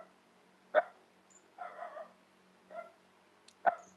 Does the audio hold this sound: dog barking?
yes